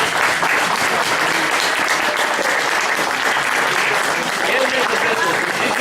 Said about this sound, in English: I want you all to stand up and give Ann a big round of applause for her hard work as chairman